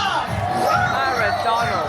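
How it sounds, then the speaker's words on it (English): A big audience cheers and whoops for Pirate Donald at a Disney Fantasy cruise Pirate Night show, a dense, steady roar of voices filling the space for a couple of seconds. "Please give a big Buccaneer cheer for Pirate Donald!"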